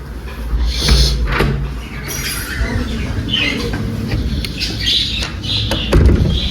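Birds squawk in harsh, repeated calls against a busy, noisy background rumble, with several sharper cries standing out over the steady din.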